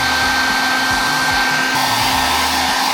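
Hair dryer blowing hot air steadily at close range, warming beeswax worked into the seams of a backpack; a constant loud whooshing hum with a fan whine, no voices.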